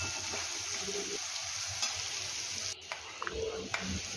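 Chopped tomatoes sautéing in a pan for sabudana khichdi, a steady quiet sizzle with occasional stirring scrapes and clinks of a spoon against the pan.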